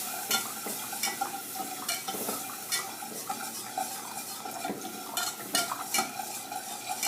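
Milk is whisked into an Alfredo sauce in a pot to smooth out the lumps, with continuous scraping and rhythmic clinks of a utensil against the pan over a light sizzle.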